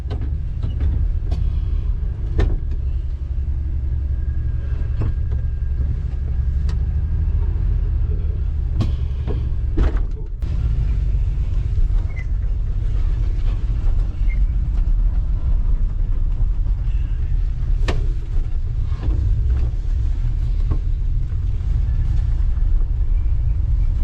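An old Dodge D150 truck drives along with a steady, loud low engine rumble and road drone throughout, broken by a few brief knocks and clunks.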